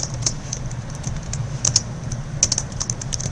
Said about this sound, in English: You click New Blog and you type in a title, whatever title you want.